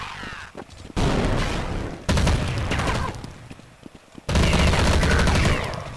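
Loud gunfire from the Counter-Strike 1.6 video game, arriving in three long bursts of rapid automatic shots separated by brief quieter gaps.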